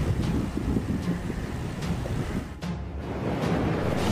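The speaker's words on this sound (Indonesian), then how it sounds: "Sandstorm adalah fenomena meteorologi yang disebabkan oleh meningkatnya kecepatan angin dalam suatu wilayah yang luas." A sandstorm wind roars in a loud, continuous, buffeting rush that blasts the microphone, with a brief dip in the gusting before it surges back.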